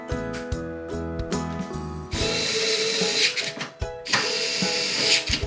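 A Sangbo Hybro TH-HD01R USB-rechargeable cordless electric screwdriver with a 0.9Ah battery runs close up in two long buzzing motor bursts, its whine mixed with clicking and rattling, and no talking.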